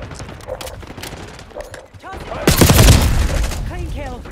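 Call of Duty: Black Ops 6 online multiplayer gunfire, scattered shots early on, then a loud dense burst of fire and a blast around the middle that tails off, with game voice lines and effects over it.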